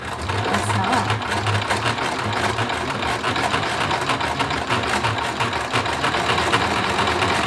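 A sewing machine runs continuously, stitching straight hems with a rapid, even mechanical whir and rhythmic needle clatter, close and loud throughout with no talk.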